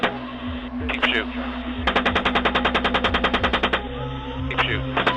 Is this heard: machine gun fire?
yes